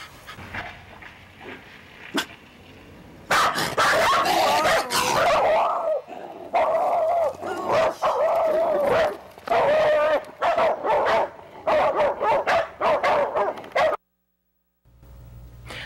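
Dogs panting heavily up close with intermittent sharp barks and yips, the panting rhythmic and nearly continuous before a sudden stop.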